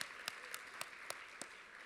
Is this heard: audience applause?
yes